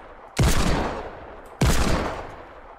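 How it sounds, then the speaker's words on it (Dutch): Two loud, sharp sniper rifle shots in Fortnite, about a second apart, each cracking sharply and then trailing off in a long decaying echo. "Hij heeft een sniper."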